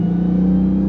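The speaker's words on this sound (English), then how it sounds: "what you're hearing is that glorious supercharger" Dodge Charger Hellcat's supercharged engine under throttle, a loud steady droning roar with a sustained whine riding on top, close and continuous with no talking.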